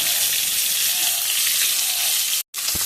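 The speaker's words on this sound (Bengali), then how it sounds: "মাছটার মধ্যে কত তেল, আমার আর একটা করে তেল দিতে লাগলো না, সেই তেল দিয়ে মাছ ভাজাটা হয়ে গেল" Fish frying in a pan in the oil released from the fish itself gives a steady, close, dense sizzle that cuts out briefly near the end, then resumes.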